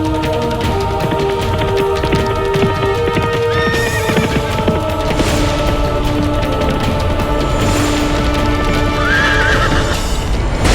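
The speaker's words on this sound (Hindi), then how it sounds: "अरे बावजूद प्रताप का घोड़ा भिदक रहा है।" A startled horse whinnies repeatedly in long, shrill neighs while its hooves clatter and stamp underneath, loud and close, within a dramatic Hindi historical series about Maharana Pratap.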